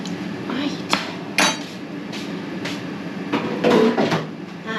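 Pork chops come out of a kitchen oven with sharp clanks of a metal tray and dish clatter, several knocks and bangs spread through a close, busy kitchen scene.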